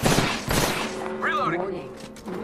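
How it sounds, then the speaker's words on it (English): Gunfire in the video game Apex Legends, rapid loud bursts of shots up close with a whizzing sound mid-clip, layered under game voice lines. "Shots fired, and they're hitting me."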